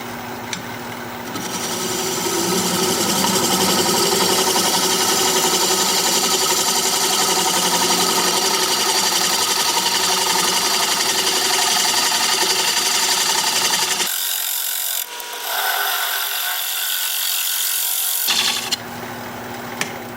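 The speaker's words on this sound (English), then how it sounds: "We're gonna be turning at 700 RPM, 5/8 inch bowl gouge" Wood lathe spinning at 700 RPM as a 5/8 inch bowl gouge cuts the inside of a bowl, a loud continuous scraping hiss that halts briefly near the end before resuming.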